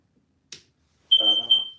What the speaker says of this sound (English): I set off the smoke detector before anything even happened.